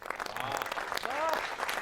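Audience applause at an Independence Day event among NSG commandos, a dense, steady burst of clapping that fills the short moment with some crowd noise mixed in.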